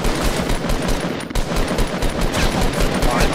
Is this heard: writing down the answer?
no